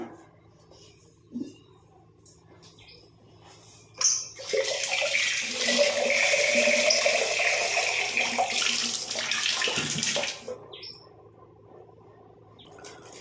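Cut fruit peels being washed under running water: a sustained splashing rush of tap water for several seconds, with quieter handling sounds before and after and faint birds in the background.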